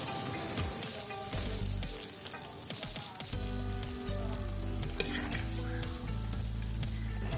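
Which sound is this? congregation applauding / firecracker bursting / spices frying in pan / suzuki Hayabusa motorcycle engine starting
spices frying in pan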